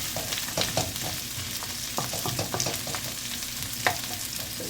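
Galunggong fish being mixed in a hot cooking pan for adobo with chili, a constant sizzling fry under repeated scraping stirs of a utensil, close up with no voices.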